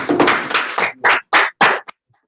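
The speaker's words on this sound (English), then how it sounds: "A lot of clapping to encourage each other" Clapping from attendees at an online public speaking club meeting, a dense burst followed by four separate short rounds of claps that stop abruptly into silence.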